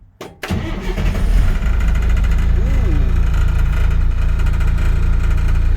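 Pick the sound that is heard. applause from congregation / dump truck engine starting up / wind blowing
dump truck engine starting up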